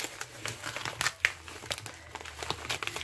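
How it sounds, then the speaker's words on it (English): A plastic mail bag is ripped and cut open up close, giving quiet, irregular crinkling and tearing bursts with one sharp snip partway through. "I'm just going to go ahead and just rip the bag open"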